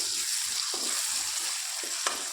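Ginger sizzles steadily in hot oil in a pan while a cucumber tomato curry is being made, a continuous close frying hiss broken by a few soft stirring scrapes.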